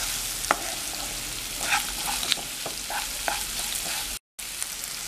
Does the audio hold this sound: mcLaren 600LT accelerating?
no